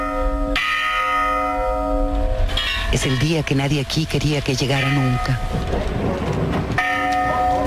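Church bells toll in mourning with a resonant, lingering ring while a voice speaks over them in the foreground.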